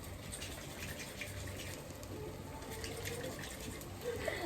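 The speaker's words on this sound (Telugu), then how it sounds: "புளி தண்ணி ஊற்றி" Tamarind water poured for a fish curry, likely into a mixer jar, giving a steady, moderately loud splashing pour that runs continuously with no talk.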